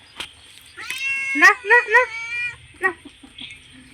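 A cat meows several times in a row, close by and fairly loud, with long drawn-out calls and a shorter one after a brief pause.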